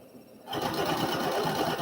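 A sewing machine starts up and stitches a quilt block for a summer sampler, a steady close mechanical whir of rapid needle strokes running without a break after a brief quiet start.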